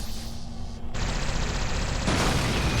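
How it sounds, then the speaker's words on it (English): A big explosion goes off in the Halo 2 video game, a roaring blast that swells into a sustained crackling rumble of debris, loud and dense throughout the clip with no voices. "Yep, there's a big explosion."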